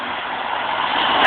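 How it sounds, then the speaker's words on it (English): A truck engine idles in flood water in Bakersfield, a steady broadband rumble with a constant wash of noise that swells slightly toward the end. "You can record that truck!"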